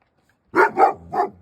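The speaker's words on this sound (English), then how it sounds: "Look at you, silly dog." A sled dog at a Denali National Park kennel in Alaska gives three quick, close, loud barks after a moment of silence.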